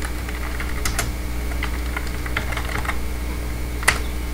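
Keys tapped on a computer keyboard while typing a name into a running program, a scatter of light, close clicks at an uneven pace over a steady background hum.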